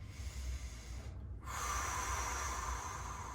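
Someone holding an ELDOA stretching pose breathes heavily, a long audible exhale followed by a short pause and a sharp, snorting intake of breath, close and alone.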